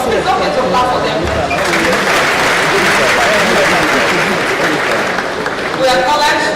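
Clapping swells from the audience at a university lecture, a dense burst that holds for several seconds before easing, with talk and crowd murmur around it.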